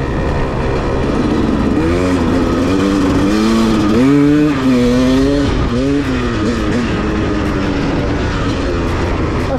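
A two-stroke 125 dirt bike, a Suzuki RM125 or Honda CR125, revs hard on a meadow with a loud, close engine note that climbs and falls in repeated sweeping throttle blips over a continuous roar.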